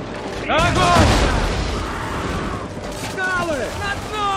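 A naval cannon volley from a sailing warship in Assassin's Creed III, a heavy close blast rolling into rumbling booms, with shouted commands and whistling, sliding tones over the battle din.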